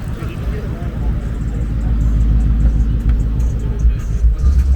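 Loud, low engine rumble from a Porsche 911 Turbo S or a supercharged S650 Mustang, building steadily as the throttle is pressed, with people talking faintly nearby.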